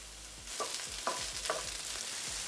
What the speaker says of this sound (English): we're going to let these tomatoes cook for another 5 to 10 minutes